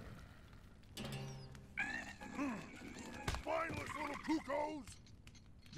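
Cucco chickens in Zelda: Breath of the Wild give a run of high, bending squawks and clucks, fairly close and clear, with game noises and a few thumps around them.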